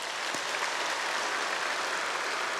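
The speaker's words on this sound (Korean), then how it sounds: "성가대 너무너무 잘하셨는데 우리 박수 한번 하실까요?" A church congregation at Sunday service applauding the choir, with broad, even clapping from many hands, continuous and steady, filling the room from start to end.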